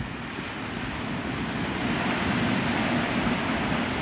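Ocean surf rolls onto the white-sand shore at Navarre Beach, Florida, a steady close wash of breaking waves with wind buffeting the microphone, continuous and fairly loud with no voices.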